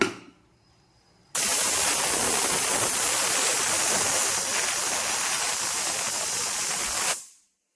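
After a quiet moment, a pressure cooker cooking green gram bursts into a loud, steady hiss of escaping steam that lasts several seconds, then stops abruptly.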